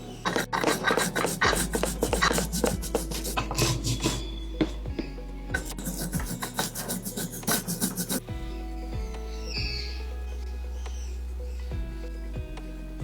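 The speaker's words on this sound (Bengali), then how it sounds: "এবার শুকনো খোলায় সাদা কালো সর্ষে কাঁচা লঙ্কা আর অল্প নুন দিয়ে মিনিট দুয়েক ভেজে শিলনোড়ায় মিহি করে বাটবো" Mustard seeds, white and black, with green chilli and a little salt ground on a stone slab with a grinding stone, a harsh rasping scrape repeated in quick strokes, then slower softer rubbing toward the end.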